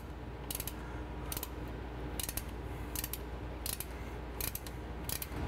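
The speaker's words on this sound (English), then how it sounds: "And I'm tightening just by hand for now." Nuts being hand-threaded onto the studs of a GE90 main fuel oil heat exchanger, a series of faint, evenly spaced metallic clicks and ticks repeating roughly every second over a low background hum.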